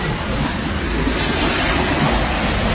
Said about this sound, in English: Waves crashed against the seawall and flooded the streets